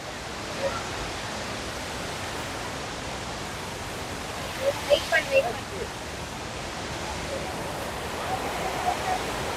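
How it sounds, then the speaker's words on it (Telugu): Hogenakkal Falls waterfall seen from a hanging bridge, a steady broad roar of falling water filling the whole stretch, with a few brief faint voices or bird-like chirps rising above it near the middle. "హ్యాంగింగ్ బ్రిడ్జ్ నుంచి చూడండి వాటర్ ఫాల్స్ మొత్తం కనబడుతుంది మనకి."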